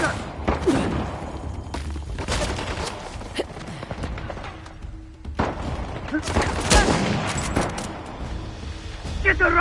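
Gunfire from the video game Uncharted: The Lost Legacy: bursts of sharp, loud shots and booming impacts come in clusters, with dense rattling volleys separated by brief lulls and shouted voices mixed in.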